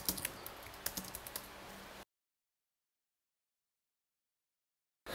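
An address is typed on a computer keyboard as a quick run of soft, irregular key clicks lasting about two seconds, followed by silence.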